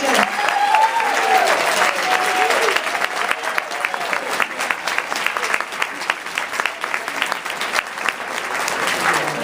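An audience at a Republican Women of Prescott meeting bursts into sustained applause for outgoing officers, a loud, dense patter of many hands that continues evenly throughout, with a few faint voices mixed in.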